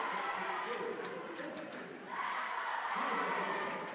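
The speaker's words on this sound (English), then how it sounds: "You can hear that crowd." Festive crowd noise in a high school gym during a volleyball game, a broad continuous roar of chatter and cheering that swells toward the end, with a commentator's voice over it.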